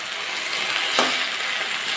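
Malabar spinach seasoned with salt and turmeric sizzles in a pan, a soft steady hiss with one brief stirring scrape midway, close and quiet with no talk.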